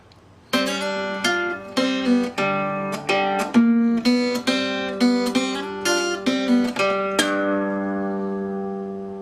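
Acoustic guitar riff played from the top, the thumb hitting the open 5th string under index-finger notes, a steady run of plucked, ringing notes that ends on a sustained chord, close and alone.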